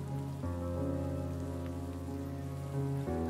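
Steady rain falls outdoors in a constant hiss. Sustained tonal music plays over it, and there is no talking.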